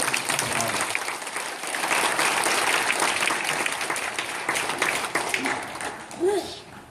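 Church congregation applauding to welcome an elder back after months of recuperation, a dense, steady wash of many hands clapping for several seconds before thinning out near the end.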